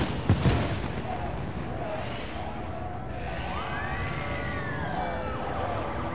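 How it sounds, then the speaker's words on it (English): In a SimCity 2013 city, fireworks crackle and pop while a riot unfolds, carried on a dense, continuous roar of game noise. Rising and falling siren-like tones sweep through the middle, and sharp bangs come early. "Fireworks burning, protesters running."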